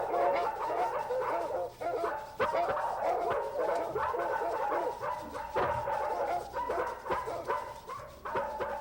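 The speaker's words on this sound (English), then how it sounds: "you'll need to have about 8 dogs or a recording studio where you can layer the same sounds over and over" Many dogs bark at once in a layered haunted-house sound effect, a dense overlapping chorus of barks, yips and whimpers that runs continuously and close.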